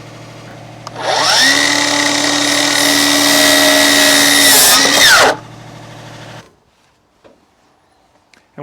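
A power drill drives a screw into wooden board and batten siding, one steady whining run of about four seconds that winds down and stops, followed by quiet handling noise.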